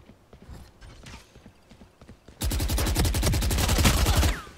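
Rapid bursts of gunfire from a Valorant match ring out loud and dense for the last two seconds, following quieter in-game clatter and footsteps.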